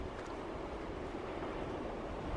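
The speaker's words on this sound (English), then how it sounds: "just look at those waves" Ocean waves crash and roar along the rocky Cornwall coast near Geevor and Levant, a steady broad wash of surf mixed with wind buffeting the microphone.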